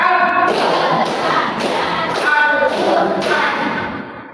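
A class chants through a numbered clap routine, the group clapping in dense, loud unison with rhythmic bursts and voices mixed throughout.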